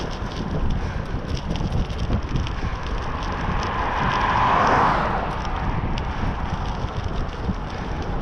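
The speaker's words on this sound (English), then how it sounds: "Just to spoil it, we've got this headwind." Headwind buffets a microphone while riding a bicycle along a cycleway beside a main road, a steady broadband roar of wind noise that swells briefly midway and stays loud throughout, with no talking.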